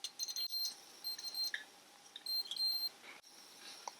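A multimeter's continuity tester sounds short, thin, high-pitched beeps in quick irregular bursts while probing the coil of a Lucas 9H horn from a 1970 Triumph Herald 13/60. The beeps are faint and close, with quiet gaps between them.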